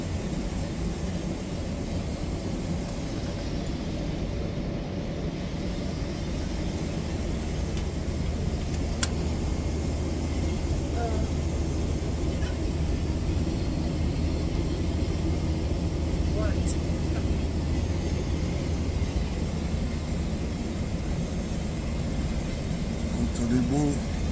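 Steady, loud airplane cabin drone on approach to land in Dubai, a broad continuous rumble holding level throughout with no break.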